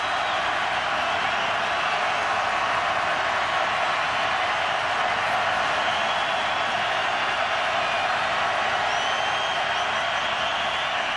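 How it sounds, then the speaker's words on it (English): Roaring crowd at a 2004 Clemson vs Miami college football game in a stadium just before overtime, a constant dense wash of cheering noise at steady loudness throughout. "Crowd comes to life."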